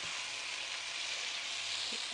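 Potato pieces fry in hot oil in a pan, giving a steady, even, close-up sizzle with no voices.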